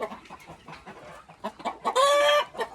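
Farm chickens cluck in a series of short, uneven bursts close by, then one bird lets out a longer, louder squawking call before the clucking resumes.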